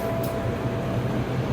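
A Pasundan passenger train hauled by a CC 203 diesel locomotive pulls into Kutoarjo station from the west, a steady low rumble with a brief high squeal near the start.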